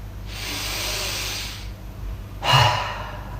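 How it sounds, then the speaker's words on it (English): Deep belly breaths drawn slowly through the nose during a short yoga session, a long soft airy inhale followed after a pause by a stronger, gustier breath, close and alone. "3 big belly breaths, right? Ideally through the nose."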